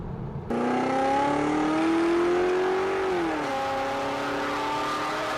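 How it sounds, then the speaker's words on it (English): A Volkswagen GTI braking hard from 120 km/h to a dead stop, a loud steady engine-and-tire roar that holds its pitch, sweeps upward, then drops and settles as the car slows, with no talk over it. "do you have any clue how long it takes to bring a car traveling at 120 kilometers an hour to a dead stop?"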